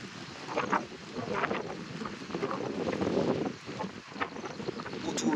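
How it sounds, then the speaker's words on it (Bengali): Strong wind sweeping across the Bandarban hills, a steady, loud rushing roar that buffets the microphone and swells and dips in gusts throughout. "প্রচুর বাতাস।"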